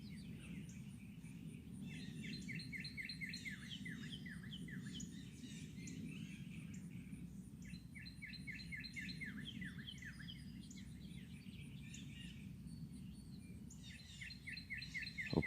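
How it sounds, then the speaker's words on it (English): Wild birds sing outdoors in repeated bursts of chirps and trills, faint and distant over a low steady background hum with a soft insect drone, with no talk. "I'm just listening to the birds."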